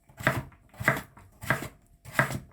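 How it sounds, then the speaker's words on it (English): A knife chops vegetables on a cutting board for Cornish pasties in a home kitchen, four evenly spaced, crisp thuds about a second apart, close and fairly quiet with no talking. "This is by no means a masterclass in chopping."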